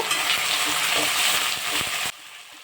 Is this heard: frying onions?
yes